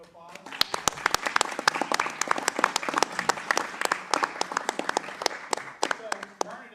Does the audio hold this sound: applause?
yes